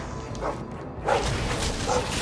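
Hounds in the video game Dragon Age 2 bark a few times, short yelps cutting through game ambience and a whoosh, with a voice briefly speaking.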